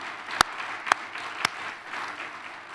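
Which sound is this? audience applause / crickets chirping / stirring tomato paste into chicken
audience applause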